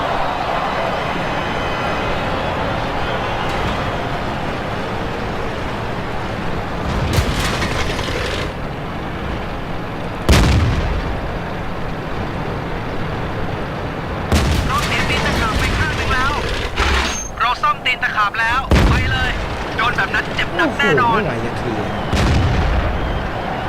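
Tank cannon fire in World of Tanks, several loud booming shots spaced irregularly over continuous game noise and a steady engine rumble, with a person talking excitedly throughout.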